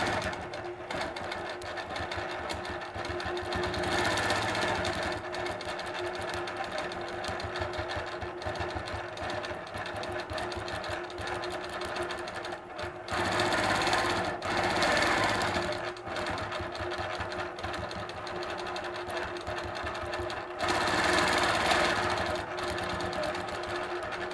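A sewing machine quilts a scrolling border with S-curve templates, its steady rapid stitching hum running continuously and fairly loud at close range, with brief pauses and speed surges along the way.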